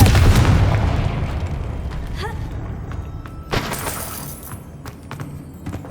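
A loud, booming blast of a fiery Confringo curse in the style of a Harry Potter spell opens with a heavy low rumble, then decays into a long, shattering tail with a few sharp crackles and a second smaller burst.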